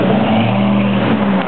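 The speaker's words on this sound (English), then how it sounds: "Very busy highway, River Road." Rush-hour traffic roars along River Road, a very busy highway, with a loud, continuous engine drone and tire hum as vehicles pass close by, no voices over it.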